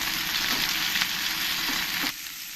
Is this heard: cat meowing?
no